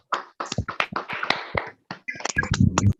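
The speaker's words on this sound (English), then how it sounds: "give a round applause to all our students" Scattered claps and taps from an online audience of students and guests unmuting together, uneven and sparse bursts across a few seconds, loud and close like laptop microphones.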